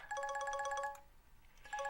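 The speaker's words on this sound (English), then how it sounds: "whenever the phone rings at this time of night, there's only one thing it can be" A telephone rings at night in a horror video game: a steady electronic ringtone pattern of repeated tones, pausing briefly and then starting again, loud and close with no talk over it.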